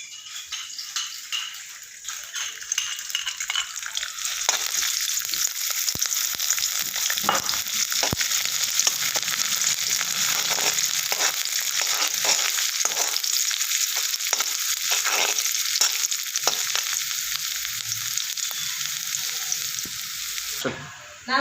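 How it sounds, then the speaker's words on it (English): Ginger and garlic frying in a tablespoon of oil in a pan, giving a loud, steady, close hiss of sizzling that lasts throughout, with occasional stirring scrapes and no talk. "Now I am going to add the oil to the pan. 1 tablespoon of oil. Need to add ginger and garlic."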